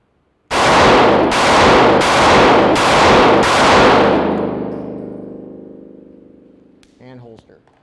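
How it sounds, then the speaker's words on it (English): A pistol drawn and fired five times at a target on a shooting range, with five loud, sharp, evenly spaced shots ringing out, the last echo decaying slowly before a brief voice. "So we're simply going to draw and fire 5 rounds on target number 1."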